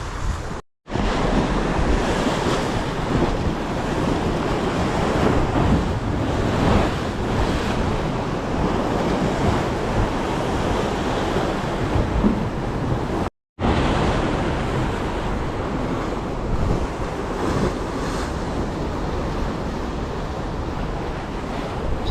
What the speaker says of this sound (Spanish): Pega fuerte el aire, el mar está fuerte